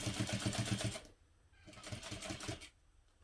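Sewing machine stitching down a tote bag's handle facing with a narrow seam allowance, a rapid steady needle chatter in two close bursts with a short pause between, running alone without talk.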